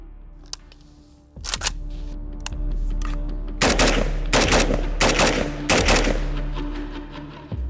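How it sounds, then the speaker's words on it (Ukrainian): Loud shots from a Kalashnikov assault rifle fitted with a slanted muzzle brake ring out in a quick irregular series of eight, sharp blasts with a harsh concussive crack, firing alone without talk. "Зараз ми стріляємо з тієї самої дистанції, ті самі 8 пострілів, але вже з косим ДГК."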